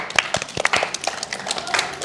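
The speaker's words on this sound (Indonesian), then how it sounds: "Tepuk tangan dulu untuk Rido." Classroom of students clapping for a classmate, sparse and uneven claps heard fairly close, lasting about two seconds.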